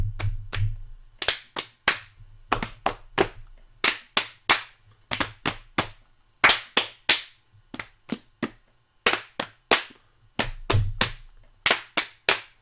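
Sharp, loud hand claps and slaps in a slap-slap-slap, clap-clap-clap pattern from the game Hatoful Boyfriend, quick rhythmic bursts repeated in groups with brief pauses between, close and dry.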